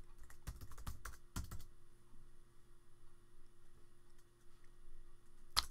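Computer keyboard typing of a username at a desk, a quick flurry of close key clicks followed by a few separate taps and then a long quiet stretch under a faint electrical hum, with no talking.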